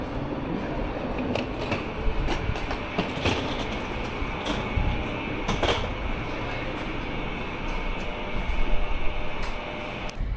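Onboard a Keisei Main Line train heading to Ueno station, a steady rumbling ride with rhythmic wheel clatter and occasional knocks and rattles inside the carriage.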